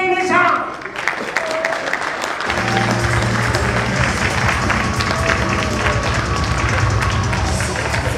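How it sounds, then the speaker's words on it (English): Audience applause at a reception honoring global women of excellence, a brief pause and then a steady wash of clapping that builds and holds, fairly loud, with some crowd noise mixed in. "please give a round of applause to the one and only Arushi Nishant"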